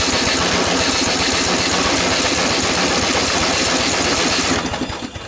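A junk lawn mower engine with no gas in it cranks over steadily on a JOMGAND JQP3750 jump starter, a loud continuous rhythmic churning that holds for about four and a half seconds, then trails off.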